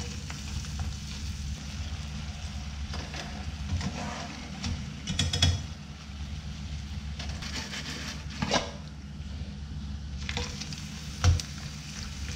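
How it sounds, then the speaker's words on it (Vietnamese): Anchovies sizzle steadily in hot oil in a pan, a continuous crackling fry with occasional louder bursts of stirring. "Sau đó mình sẽ làm nóng dầu lên, mình sẽ chiên."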